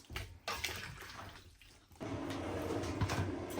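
Water pours into a pot of Iraqi kubba broth. A few rough knocks and splashes come first, then a steady, fairly loud rushing stream runs through the second half, with no voices.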